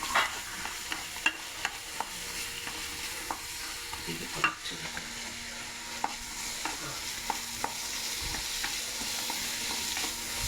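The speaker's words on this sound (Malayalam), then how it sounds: "പിന്നെ ഒന്ന് വഴറ്റണം നല്ല ഒരു കൊഞ്ച് ഫ്രൈ ആണ് നമ്മൾ ഉണ്ടാക്കുന്നത്" Prawns for a Kerala-style prawn fry, with chopped shallots, sizzle steadily in a hot pan while a spoon stirs and scrapes, giving sharp clicks and taps over a constant frying hiss.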